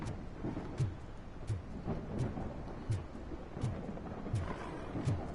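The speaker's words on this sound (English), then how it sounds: "And now it's raining." Steady rain hisses with low thumps recurring at a regular pulse, roughly every second; no voices.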